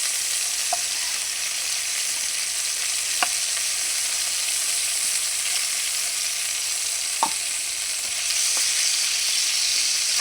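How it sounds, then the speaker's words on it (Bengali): Potatoes frying in hot oil after chicken, a steady sizzle running throughout with a few sharp pops and spatters, close and continuous, with no talking. "আলুগুলি আমি ভালো করে ভাজে নিই,"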